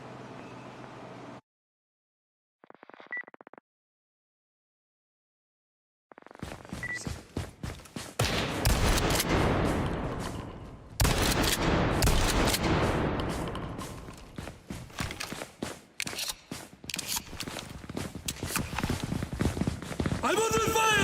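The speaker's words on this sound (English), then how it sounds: "I'm under fire!" Gunfire in a video game shooter arrives in dense, loud bursts and rapid volleys after some early quiet and brief blips, with a player's voice talking over the action.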